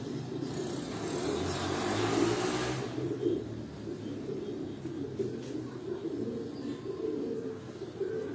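Pigeons cooing on a rooftop loft, soft low murmuring coos repeating steadily at close range amid faint background hum.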